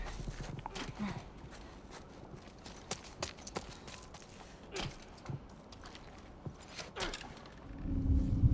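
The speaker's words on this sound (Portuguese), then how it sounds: "Cavalo." Horse hooves clip-clopping in The Last of Us Part I remake's Left Behind chapter, heard as irregular clops and thuds over a game background that swells into a low rumble at the end.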